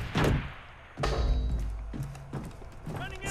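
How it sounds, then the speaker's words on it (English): A grenade thrown in the Far Cry 3 shooter game lands with a few heavy thuds and a blast-like burst, loud and close, with brief in-game shouting around it. "Throwing grenade!"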